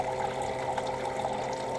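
A pump pushes saltwater through a filter inside a cooler livewell, giving a steady close trickling and splashing flow that runs evenly for under two seconds, with no talking.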